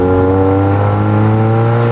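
A modified Mazda MX-5 Miata engine revs steadily with a strong, droning harmonic hum, holding a high pitch throughout at close range.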